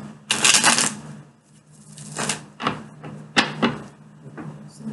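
Tarot cards being shuffled by hand in several quick bursts of crisp riffling and slapping, close and clear, with short quiet gaps between.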